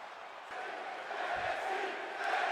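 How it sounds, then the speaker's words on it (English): A Toronto wrestling arena crowd in WWE 2K25 roars in a steady, dense wash of cheering and shouting, loud and sustained with a faint thump early on. "The Toronto crowd can't even believe what they're looking at."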